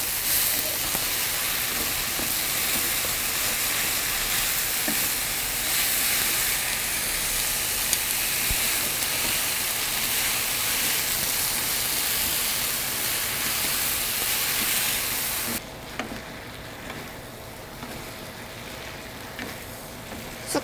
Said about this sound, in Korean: 숙주도 같이 볶을게요